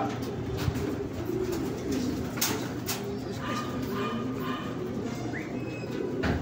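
Soft, repeated cooing of pigeons over a steady background hum, several low calls spread across the stretch at moderate distance.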